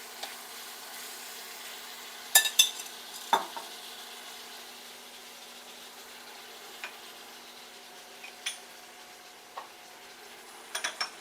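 Raw prawns frying in a pan give a soft, steady sizzle, and a few sharp clicks and scrapes from stirring come through now and then. No voices are heard.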